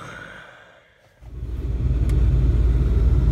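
A pickup truck engine turns over and catches, then rises into a steady, loud low rumble with a slight rev, close by and alone with no talk.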